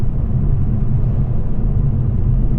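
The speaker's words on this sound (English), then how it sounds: "here comes a truck" A truck passes outside a 2023 Toyota Supra 3.0L six-speed manual, heard from inside the cabin as a steady low rumble over the tire and road noise, with no rise standing out.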